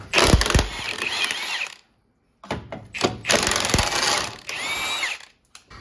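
Bolts on the torque mount of a 1997–2001 Honda CR-V, RD1, being removed with a power tool, in several loud, broadband bursts of whirring and rattling separated by short silent gaps.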